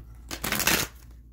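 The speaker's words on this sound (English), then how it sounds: "Why is this deck not shuffling?" A single quick riffle of tarot cards being shuffled up close, a short papery flutter lasting about half a second.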